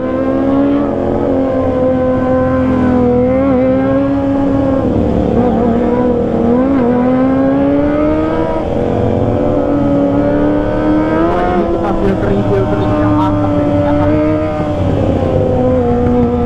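A Kawasaki ZX25R sport motorcycle engine revs steadily and loud up close, its pitch rising and falling through the gears with a continuous high-revving whine.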